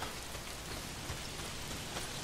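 Steady rainfall in the Days Gone video game, a constant dense hiss of drops on surfaces with no breaks, filling the whole scene evenly.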